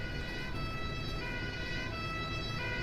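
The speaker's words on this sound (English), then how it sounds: "Oh, that's a fire engine, not an ambulance." A fire engine siren in the bus simulator OMSI 2 on the Bremen-Nord route wails continuously at steady volume over low engine hum, with no talking.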